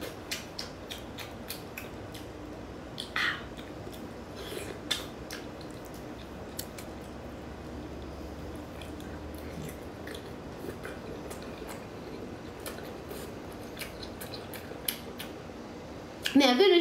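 A large sea snail being eaten up close, with faint crisp clicks and moist chewing sounds scattered irregularly over a quiet background, then a louder rustle at the very end.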